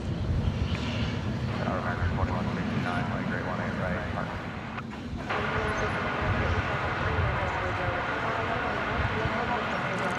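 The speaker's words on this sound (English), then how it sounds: "It's a long rollout for the San Jose flight." A jet airliner on a long landing rollout after arriving from San Jose, a steady broad roar of engines and reverse thrust at moderate distance that holds throughout, dipping briefly midway.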